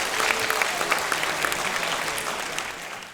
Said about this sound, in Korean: 발표자분들께 큰 박수 부탁드리겠습니다.